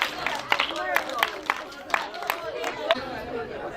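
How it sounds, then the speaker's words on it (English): Audience hand clapping at a Universal Children's Day celebration at 7 Trees Kololo, roughly rhythmic claps repeating about twice a second under lively crowd chatter and voices. "Give Jackson a big, big hand clap."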